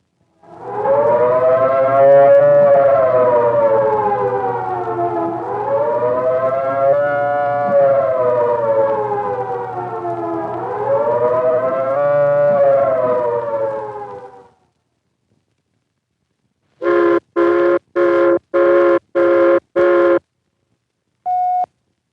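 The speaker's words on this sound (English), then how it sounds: "The second signal is the take cover signal, a 3-minute warbling tone or series of short blasts like this." A loud warbling civil defense take cover siren rises and falls in long slow sweeps for about fourteen seconds, then after a pause, a series of short sharp blasts.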